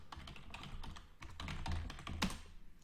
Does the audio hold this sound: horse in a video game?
no